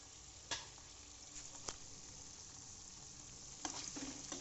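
Pork dry fry sizzles in a pan with a steady, fairly quiet hiss, broken by a few clinks and scrapes of stirring, with no voices.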